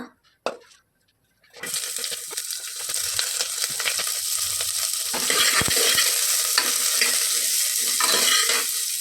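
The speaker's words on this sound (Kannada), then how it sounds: "ಇಷ್ಟನ್ನು ಈಗ ತುಪ್ಪದಲ್ಲಿ ಫ್ರೈ ಮಾಡಬೇಕು." After a quiet start with a single click, whole masala spices drop into hot ghee for a green chicken gravy and a loud, continuous sizzle takes over, crackling steadily to the end.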